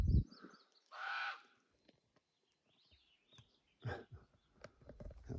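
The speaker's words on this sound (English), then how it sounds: "That bird. I don't know if he's following me or I'm following him." A single harsh, caw-like bird call rings out loudly in quiet backwoods on a ranch, with faint rustling and footsteps around it and a few softer bird sounds later.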